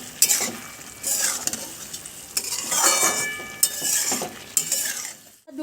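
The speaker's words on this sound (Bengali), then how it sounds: "আবার একটু নেড়ে চেড়ে আমি রান্নাটাকে আবার ঢেকে দেব।" A spoon scrapes and stirs thin Bengali fish curry in a pot, in about five separate bursts of clattering metal-on-pot scraping with brief pauses between, close and fairly clear, no talking.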